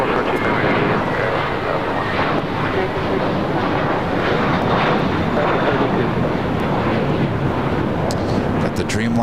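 A heavy jet airliner on its takeoff roll at LAX, runway 25 right, a steady loud broadband engine roar holding throughout with continuous rumble and hiss.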